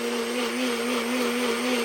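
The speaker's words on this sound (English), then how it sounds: "I will crush them as well right in my blender." A NutriBullet blender whirs loudly and steadily as it crushes three small tomatoes without added water, running at a constant pitch before cutting off abruptly at the end.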